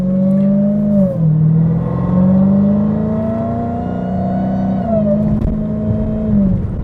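Supercharged Dodge Challenger Hellcat fitted with a JLT intake, engine droning steadily at a fairly restrained volume, dipping briefly near the one-second mark and then rising again through a sustained rev, with no one speaking.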